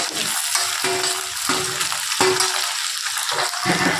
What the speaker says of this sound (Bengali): আবারও একটু একইভাবে ভেজে নেব। টুকরো করে রাখা টমেটোগুলোও দিয়ে দেব।